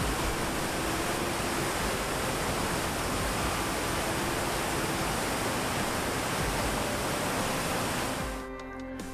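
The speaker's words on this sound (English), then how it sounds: "The water's just rushing along." Rushing water pours along in a continuous, loud broadband roar that holds steady for several seconds before cutting off near the end.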